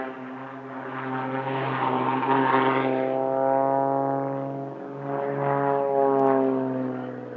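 Two-seat Extra 300L aerobatic aircraft perform at an airshow, their propeller engines producing a steady, loud droning hum with strong harmonic tones that swell and fade as they pass overhead, with no talk.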